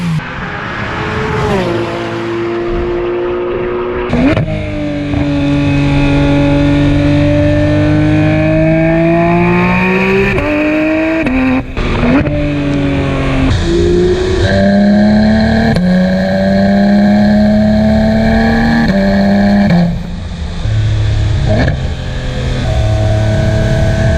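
A Porsche GT3 RS with automatic gearbox accelerates loudly and close by, its engine note climbing repeatedly through several rising pitch sweeps with brief drops between shifts.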